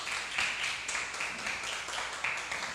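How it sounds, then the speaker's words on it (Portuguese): A church congregation claps steadily, a dense patter of many hands with periodic swells, moderately distant and unbroken by speech. "Vamos aplaudir bem forte o Senhor Jesus."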